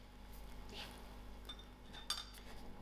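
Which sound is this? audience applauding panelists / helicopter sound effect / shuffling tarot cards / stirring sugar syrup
stirring sugar syrup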